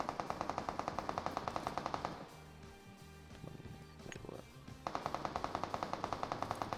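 MG3 machine gun fire in the PUBG video game comes in rapid, loud, evenly spaced bursts. A short break of quieter clatter follows before the sustained automatic fire resumes.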